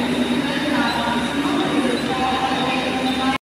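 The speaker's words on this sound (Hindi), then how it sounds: "हमारी ट्रेन आ गई है" A train pulling into a station, a loud continuous rumble of wheels on rails with faint squealing tones, cutting off abruptly near the end.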